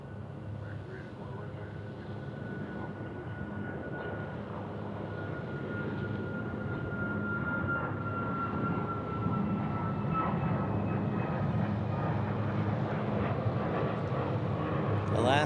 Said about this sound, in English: Alaska Airlines headed to the West Coast. Now there's 737.